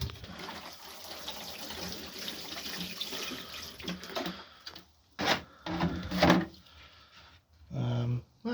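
Water splashes and trickles onto freshly planted potatoes in pots, in uneven bursts that end with a few louder pours, close by, with some faint speech underneath.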